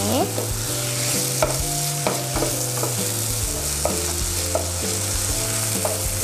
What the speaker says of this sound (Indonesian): Setelah jadi telur orak-ariknya, kita campur dengan buncisnya.